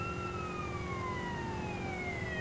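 Police car siren in GTA San Andreas, a steady wailing tone sliding slowly downward, loud and continuous over a low game rumble, with no talk.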